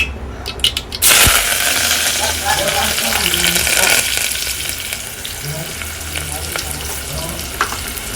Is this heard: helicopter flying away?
no